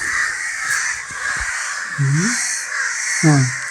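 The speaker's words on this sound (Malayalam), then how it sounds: "കാക്കകളുടെ അയൽക്കൂട്ടമാണെന്ന് തോന്നുന്നു." Crows caw in a noisy flock in a village setting, two or three sharp harsh calls standing out over a constant background din of birds.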